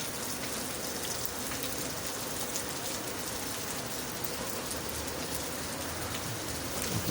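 Steady rain falls on outdoor surfaces, a dense even patter with scattered drops tapping close by, moderately loud and continuous with no one talking.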